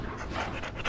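A dog pants in the video game Dragon Age: Origins, a steady, rapid rhythm of breathy huffs heard up close and alone for just under a second.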